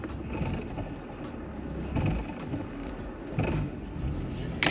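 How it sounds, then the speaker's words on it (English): A BMW F80 M3 clutch makes a low mechanical rattling and grinding as it starts to grab, with brief ratchet-like bursts over a steady drivetrain rumble, close and moderately loud. "Get a little noise coming from the clutch right when it starts to grab"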